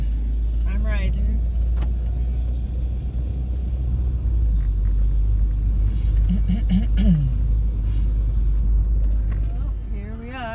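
From inside a moving car hauling scrap metal to a recycling yard, a deep constant engine and road rumble drones throughout, with people talking intermittently over it.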